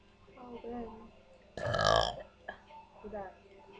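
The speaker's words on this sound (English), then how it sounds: "It's all a burping contest." A loud, gravelly burp erupts during a casual burping contest, sitting between bits of nearby chatter and laughter from a couple of people before and after it.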